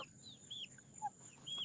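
Small flock of hens and a rooster making soft, faint clucks and short chirping calls, scattered and quiet.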